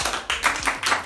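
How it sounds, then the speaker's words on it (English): Schoolchildren in a Nigerian classroom clap for a boy who answered correctly, a short burst of brisk, close hand claps with a few uneven beats. "A clap for him."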